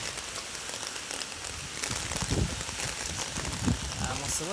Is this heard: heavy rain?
yes